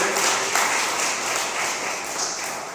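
Steady applause from a church congregation fills the room, a dense wash of clapping that holds at an even level throughout.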